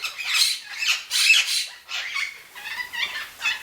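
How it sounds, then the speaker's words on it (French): Pet parrots squawk behind the speaker indoors, a string of loud, harsh, rasping calls in quick bursts, close and insistent. "J'espère que mes perroquets vont me laisser finir"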